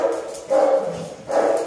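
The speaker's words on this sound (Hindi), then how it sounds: "कुत्ते लड़ रहे हैं बाहर, कल रात से ये लड़ाई ना दिमाग खराब कर रखा है।" Dogs barking and fighting outside, with a few moderately loud bark bursts at a steady interval, sounding somewhat muffled and distant.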